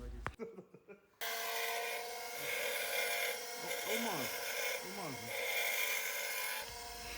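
A steady, loud rasping grind of a cut steel ball-joint bolt being sanded, running continuously for several seconds after a few brief clanks.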